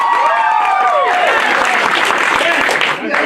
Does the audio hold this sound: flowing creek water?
no